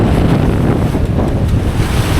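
Strong wind buffets the microphone over the rush of steep waves breaking around a sailboat, a continuous loud roar with no voices.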